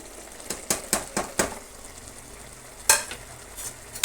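Radish gojju being stirred in a pan after chilli powder, turmeric and salt go in: a run of close scraping strokes, then a pause and a few more sharp stirs, with no talking.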